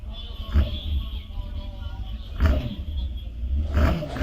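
A Riot chassis hillclimb car powered by an R1 motorcycle engine at Prescott hillclimb, a steady mid-distance engine drone with a few brief louder surges, with a commentator talking over it.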